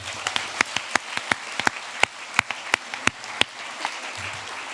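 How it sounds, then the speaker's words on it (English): Audience applause at a school closing ceremony, a spread of sharp individual claps scattered over a steady wash of clapping from a crowd, fairly close, with no talk. "So another round of applause for Miss Barrett."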